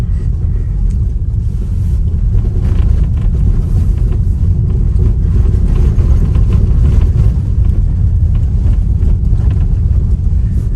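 A Tesla Model Y rolls over a rough washboard dirt road, giving a loud, continuous low rumble with a rattling texture from inside the cabin and no talk over it.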